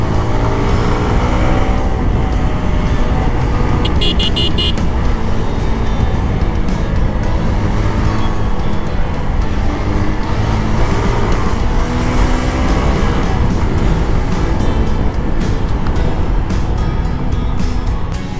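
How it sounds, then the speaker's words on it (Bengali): A motorbike on a test ride in Lalmonirhat, Bangladesh, is pushed hard, its engine roaring loudly and steadily close by for the whole stretch, with no talking. "বাইকটা একটু টেনে দেখবো যে ঠিকঠাক আছে নাকি সব কিছু"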